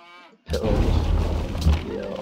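A ranged unit fires in Civilization 5, a sudden loud booming crash that cuts in after a short tonal sound and rumbles on for nearly two seconds with a second heavy hit partway through.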